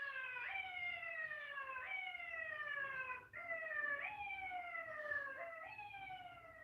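A police car siren wails close by, its rising and falling sweeps repeating steadily across the whole stretch and sounding loud and clear, with no talk over it.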